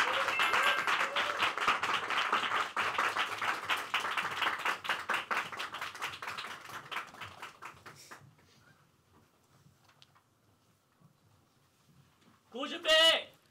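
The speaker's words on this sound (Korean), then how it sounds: "큰 박수로 환영해 주세요." Audience applause greets a high school mock trial team at a national youth mock trial competition final, a steady wash of clapping that fades out midway, followed by a brief burst of shouting and cheering near the end.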